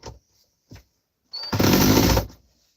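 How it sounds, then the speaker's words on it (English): A powered driver whirs steadily for about a second, driving a screw into a fixture, after a couple of brief clicks, loud and close with no talk. "Tighten the screws in this."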